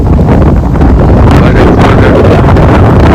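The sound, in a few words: strong wind blowing during rainstorm on rooftop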